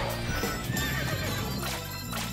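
A horse in a Nintendo video game trailer gives a loud, close whinny over a bed of music and clip-clopping hooves, with no one talking.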